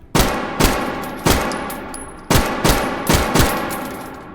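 Shots from a .38 ACP pistol in the VR shooting game H3VR ring out as six or seven loud, sharp reports. They come at an uneven, fairly quick pace, each followed by a short echoing tail, with no talk.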